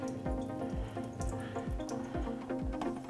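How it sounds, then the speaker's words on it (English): Dirty water from cleaning a vinyl LP is poured out into a sink, a steady close splashing flow with gurgling pulses throughout. "I'm going to go ahead and dump this water out, and you can see all of the crud that's coming out of there."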